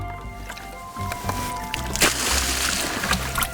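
Stocked fish are tossed from a container into creek water, giving wet sloshing and splashing bursts close to the microphone over a steady outdoor background.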